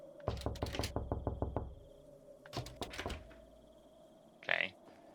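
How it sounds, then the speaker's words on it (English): Knocking on a wooden door in a horror video game: a rapid series of about eight sharp, loud raps, a short pause, then a few more heavy knocks, followed by a brief scraping thud, all over a low droning ambience. "that's clearly somebody knocking on a wooden door, not a metal rusty gate making noise"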